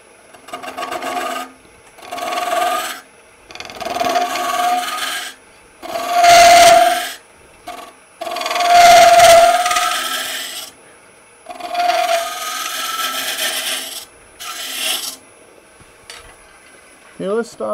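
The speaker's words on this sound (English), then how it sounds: "we got a half inch hole going right up through the middle of it" A half inch drill bit bores a hole through the middle of a wooden funnel blank turning on a wood lathe, making repeated loud rasping, grinding bursts separated by brief pauses.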